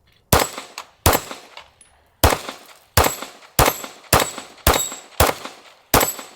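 Nine sharp, loud gunshots from a 2011-style pistol with an aluminum frame ring out one at a time at a quick, slightly uneven pace, each with a short ringing decay.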